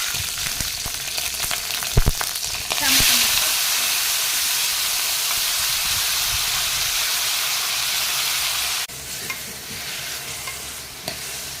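Green chillies hit hot oil in a pan and set off a loud, steady hiss and sizzle that carries on for several seconds. A couple of utensil knocks come first, and the frying fades slightly near the end.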